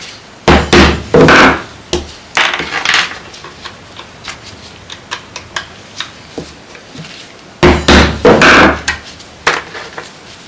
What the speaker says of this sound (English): And just hammer a piece right there, and then put in some stoppers.